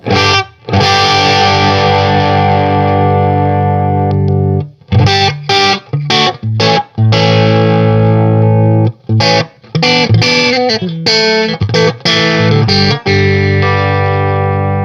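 Distorted electric guitar played loud and alone through a small Analog Alien Rumble Seat tube amp, sustained chords broken by short stops and choppy riffs, with some bends.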